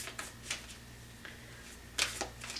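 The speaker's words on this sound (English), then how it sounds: "Whenever I shuffle these cards, they just like to go crazy on me." Tarot cards shuffled by hand in a few soft, quick riffles and snaps, close and quiet, with longer pauses between bursts and a louder flurry near the end.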